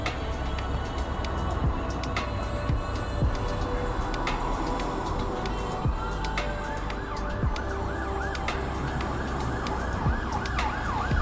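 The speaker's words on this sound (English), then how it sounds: "you have ambulance coming." Ambulance siren passing through a village street in Mansfield, United Kingdom, its wailing tone rising out of steady traffic noise and growing clearer toward the end, fairly distant.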